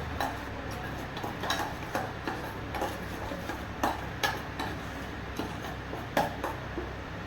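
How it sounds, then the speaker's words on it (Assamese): Spoon stirring a turmeric-seasoned mixture for steamed rohu fish with mustard, a steady run of soft scraping strokes with light clinks against the pot, close and fairly quiet, no talking. "হালধি, দি এনেকৈ লৰাই ল'লোঁ।"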